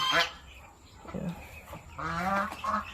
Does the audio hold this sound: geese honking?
yes